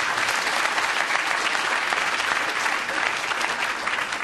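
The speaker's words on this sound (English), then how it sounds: "Please, a round of applause for both Gary and Ben for taking part in this." Steady audience applause at a policy conference plenary session thanks two panelists, dense and continuous clapping throughout at even loudness with no voices on top.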